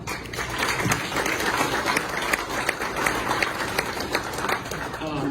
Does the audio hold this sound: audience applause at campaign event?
yes